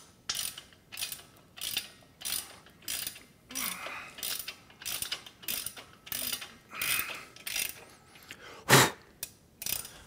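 A nut being tightened during assembly of a Body Solid EXM3000 home gym machine, heard as repeated short ratcheting bursts in a steady rhythm, close up and fairly quiet, with no talking.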